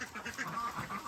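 Pet ducks quack in their winter poultry run, a brief burst of several nasal calls close by, fairly quiet over outdoor background noise.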